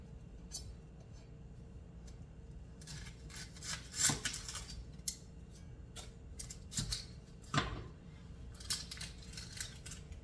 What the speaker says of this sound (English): what we're going to do first is cut 2 onions and slice them